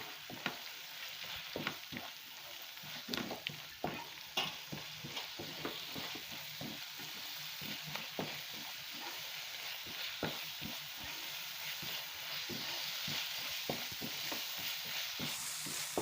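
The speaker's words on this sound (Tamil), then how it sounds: "மசாலாவை எண்ணெயிலே நல்லா வறுத்து விடுங்க." Steady sizzling of masala spices frying in hot oil for tomato paneer masala, with frequent sharp clicks of a spoon stirring against the pan throughout, no voices.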